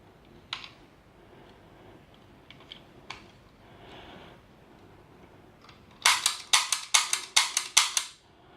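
Vintage 1950s Lone Star Gunslinger diecast cap gun mechanism, a few isolated light clicks followed by a rapid run of about eight loud, sharp metallic snaps in quick regular succession, close up.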